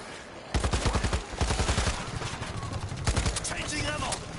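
Rapid gunfire bursts from the zombie shooter video game World War Z, loud and close, with repeated automatic volleys crackling through most of the stretch.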